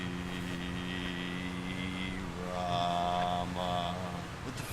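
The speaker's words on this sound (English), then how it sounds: "Hey, that sound like a chopper." A helicopter approaches in the video game GTA San Andreas, its steady engine drone and whine rising in pitch and loudness over a few seconds, with no talk over it.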